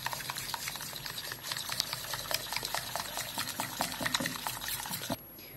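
Jamun (blackberry) ice cream mixture being mixed with vanilla essence, giving close, steady repeated stirring and scraping strokes in a quick rhythm that stop abruptly near the end.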